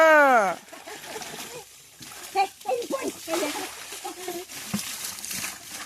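Water splashes and sloshes in bursts, close by, as voices talk and call out over it.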